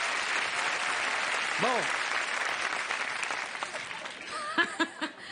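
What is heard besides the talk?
audience applause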